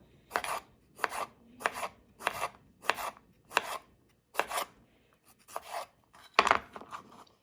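A knife cuts open potatoes at a cook's grill setup: about ten sharp, evenly spaced strokes sound close and crisp, with a brief pause before the last few uneven cuts.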